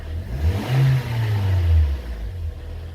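Toyota Corolla engine revving in a workshop with its check-engine light on, the pitch rising and falling through a few close, loud throttle blips before settling back.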